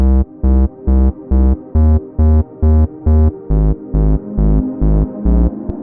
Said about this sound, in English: you can hear the bass lines following it right now